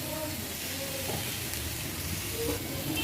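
Rice being fried in a pan with salt and four or five green chilies, a steady close sizzle and hiss with faint stirring scrapes throughout, no talking.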